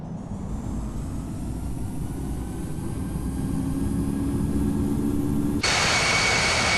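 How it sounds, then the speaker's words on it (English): Airbus A320neo jet engines spool up for takeoff in the Infinite Flight game, a steady loud roar that builds and then jumps brighter and more intense near the end, with no talking. "wind 360 at 6, runway 10, cleared for takeoff"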